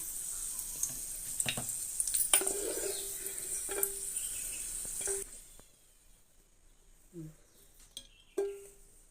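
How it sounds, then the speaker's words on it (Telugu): A pan fries ingredients in ghee for rava kesari. A close, steady sizzle with a few utensil taps lasts about five seconds, then drops away to near quiet, with scattered clinks and a brief last sizzle. "ఇలా ఫ్రై చేసుకోవాలి ఇలా బౌల్లో తీసుకుని చూడండి ఇలా వేయించుకోవాలండి"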